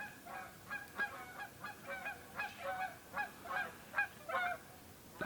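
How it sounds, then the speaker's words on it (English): Geese honking outdoors, a flock giving repeated nasal honks in uneven bursts, moderately distant and fairly faint over a low background hiss. "And I hear the honkers there."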